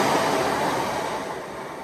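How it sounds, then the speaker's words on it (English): A train rushes past at Hebden Bridge station, a loud, broad steady roar that holds close and only slightly fades over the two seconds, with no voices over it. "There's a train."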